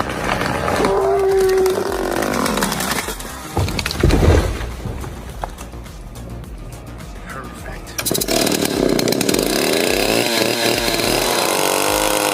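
A chainsaw cuts a massive five-foot hemlock tree, its engine snarling loudly and steadily, briefly bogging down mid-cut before surging again.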